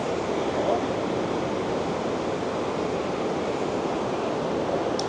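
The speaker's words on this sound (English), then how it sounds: "you'll see the whitewater rapids" Whitewater rapids on the Niagara River downriver from the falls, heard from a cable car above, form a steady, dense roar of rushing water that stays even and unbroken throughout.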